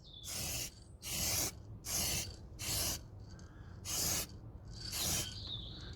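A spray can applies a second coat of paint to a 3D printed Razor Crest model, six loud, close hissing bursts of about half a second each with short quiet gaps between them.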